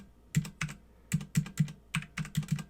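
Typing on a computer keyboard, about ten crisp close keystrokes in short irregular bursts with brief pauses, heard alone in a quiet room.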